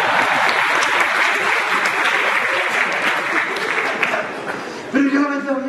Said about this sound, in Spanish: Un aplauso para nuestro artista invitado.